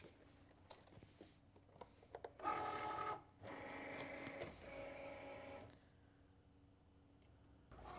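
A Cricut machine with a fine point blade cuts glitter cardstock, giving two short whirring, buzzing passes of a few seconds each amid quiet clicks, fairly faint overall.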